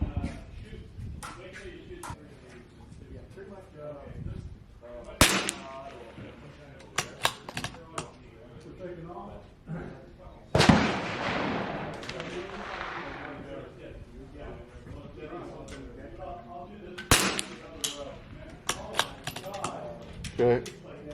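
Rifle shots at an outdoor shooting range in windy conditions, several sharp loud reports spaced irregularly, one with a longer noisy tail, amid background talk and wind.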